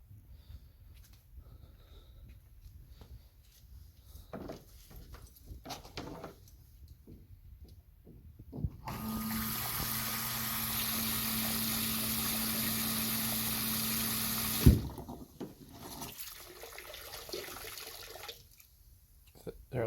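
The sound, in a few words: water spraying out of a pipe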